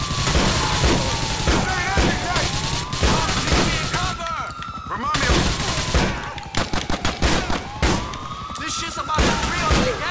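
Rapid gunfire from a 20-shot gun in Grand Theft Auto: The Ballad of Gay Tony, loud repeated bursts of shots running through most of the stretch with a brief lull midway, over game sounds and a voice.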